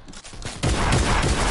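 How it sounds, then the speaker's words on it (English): Rapid gunfire rattles through a video game match, a dense fusillade that swells suddenly partway through and keeps hammering in a continuous, close stream of shots. "I know that gun doesn't shoot that fast."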